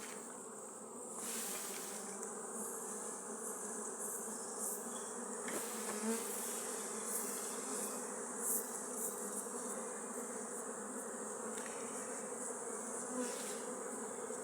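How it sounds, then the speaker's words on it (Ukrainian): Many honeybees hum in a dense, continuous drone, steady and close, with faint higher buzzes rising and fading within the swarm. "Тут трошки бджола інакша"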